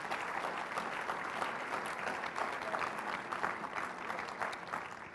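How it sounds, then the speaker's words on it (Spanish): Steady applause from an audience at a Spanish-language church teaching event in Mexico, a dense continuous patter of many hands clapping at moderate volume throughout, with no voices over it. "Un aplauso, por favor, al Señor."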